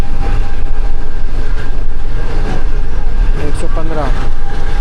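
Green Line Express train travelling at speed from Islamabad toward Karachi, a loud, steady rumble with wheel clatter and a rushing roar. Brief voices are audible beneath the train noise.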